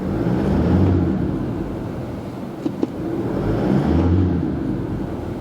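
Mazda BT-50 / Isuzu D-Max pickup engine running at a steady rumble, rising in two broad revs before settling back, with a couple of faint clicks in between; close by and fairly loud, with no voices.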